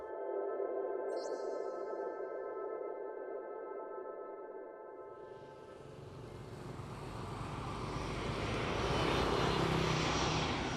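A passenger airliner departing New York for Hanoi, its jet engines droning steadily, then swelling into a loud, broad roar about halfway through as it accelerates down the runway, with no voices.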